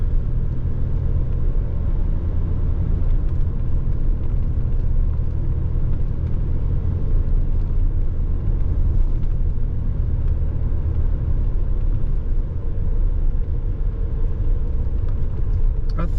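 A car on a winter afternoon drive along a rural road, with a loud, steady low rumble of engine and tyres throughout and no talking.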